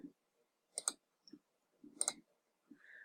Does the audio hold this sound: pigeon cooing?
no